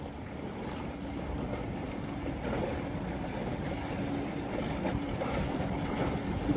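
Wind rushes steadily across the microphone over water sloshing against a moving sailboat, with no voices.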